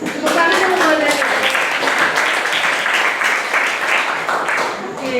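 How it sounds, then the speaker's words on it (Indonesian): A classroom audience of university students claps for a presenter, a dense sustained round of applause from many hands heard close, with some voices mixed in. "Tepuk tangan dulu buat Daniel"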